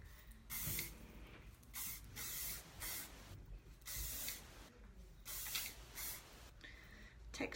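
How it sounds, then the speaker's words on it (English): A can of hairspray hisses out a series of short, airy bursts with brief pauses between them, fairly soft and close. "Spray and scrunch."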